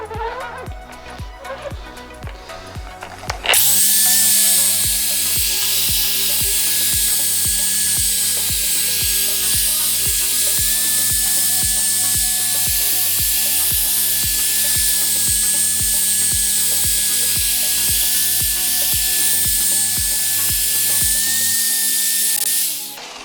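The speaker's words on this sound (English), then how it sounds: "you need to keep moving the polisher up and down, up and down" A car paint polisher buffs out scratches, starting after a few seconds and then whirring loud and steady for a long stretch, with a repeating low pulsing beneath the hum.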